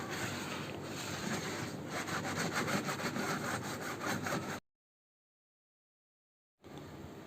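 An air conditioner filter net is scrubbed with a soft Scotch-Brite pad, giving a steady rhythmic close rubbing and scraping that runs for several seconds, cuts to silence, then resumes briefly.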